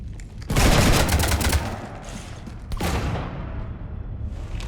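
Rapid gunfire strafing a ship in the video game Mass Effect, a dense rattling burst followed by a second volley and rumbling, booming aftermath.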